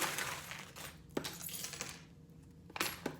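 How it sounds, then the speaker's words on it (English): Small metal charms are tossed onto a table by a tarot reader, giving a few clinking, jingling impacts spread across a few seconds over a quiet room. "I'm gonna throw a few charms on here"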